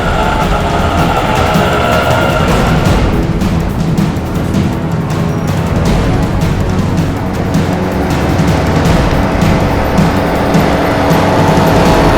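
A car following another vehicle gives a loud, constant road and engine rumble with broadband tyre noise throughout, no voices.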